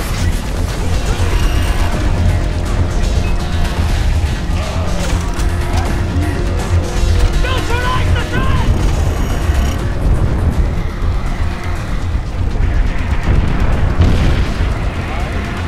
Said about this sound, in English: You have artillery rounds incoming!